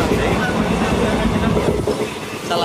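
Inside a nearly empty moving passenger train in India, a loud continuous rumble of wheels and carriage noise fills the space, with faint voices under it.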